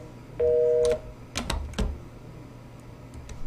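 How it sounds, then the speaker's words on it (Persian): Telephone tones sound in a radio studio control room: a steady two-tone beep, then quick clicks and key-like taps, alone against a quiet hum. "مشکل داریم با تلفن ها"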